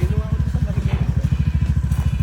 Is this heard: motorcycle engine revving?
yes